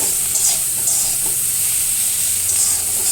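Onions and green chilies fry in hot oil in a pan and are stirred, giving a loud, steady sizzle and hiss that runs unbroken, with faint scraping stirs and no voices.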